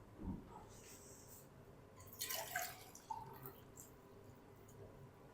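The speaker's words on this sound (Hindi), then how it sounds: "1 डब्बा हम सादा पानी शामिल कर देंगे।" Plain water goes into a cooking pot for fried chicken pulao in one short, close splashing pour, with a few faint clinks before it and quiet kitchen room tone around it.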